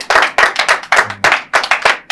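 Audience clapping together in unison at a Saturday evening show, a loud rhythmic series of about eight sharp bursts with brief gaps between them.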